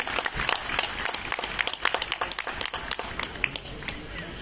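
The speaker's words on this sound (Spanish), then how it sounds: "este es nuestro reconocimiento y el aplauso del público" Audience applause at an award ceremony for a national leather-roast asado contest, a dense run of claps rising and falling in bursts with crowd noise beneath, somewhat distant.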